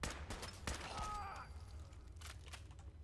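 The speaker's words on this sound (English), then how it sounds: "This one is a legendary one that shoots 2 projectiles" A legendary two-projectile rifle in Fallout 4 fires several sharp, fairly faint shots, separated by short gaps, mixed with a brief voice and low game ambience.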